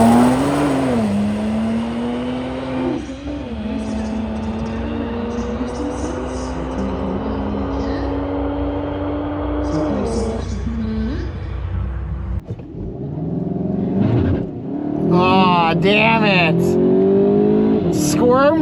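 A tuned VW GTI MK8 launches hard off the line in a drag race, its engine note climbing through rising gears with brief shift dips, loud and close. A person talks over the final seconds.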